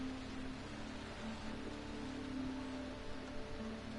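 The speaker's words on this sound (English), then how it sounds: "It's raining." Steady rain pours down in the video game Heavy Rain, a continuous even hiss of falling water with a faint low tone beneath it, with no one talking.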